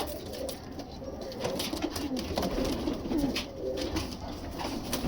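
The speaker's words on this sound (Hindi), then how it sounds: "ये जो हमारे पास ये डब वाले कबूतर हैं" Dub pigeons cooing softly in a loft, a steady low burbling murmur of several birds close by, continuous throughout with no talking.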